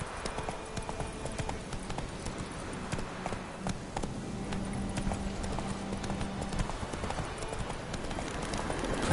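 Roach the horse galloping in The Witcher 3, a quick, steady clip-clop of hooves at a run, fairly close, continuing throughout with faint background sound.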